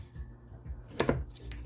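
A knife chops through a tomato on a cutting board while preparing a diet soup for a cooking blender, with two or three close, sharp cuts near the middle amid quiet kitchen background noise.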